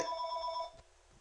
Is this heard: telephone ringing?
yes